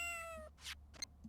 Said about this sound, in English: We heard the meow!